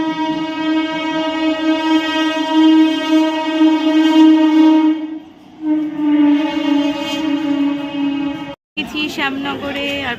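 A train at a railway station sounds a long, loud, steady horn with strong harmonic tones, briefly dipping and resuming before cutting off, followed by busy station noise and voices.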